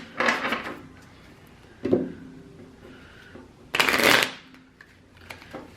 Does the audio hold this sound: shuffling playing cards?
yes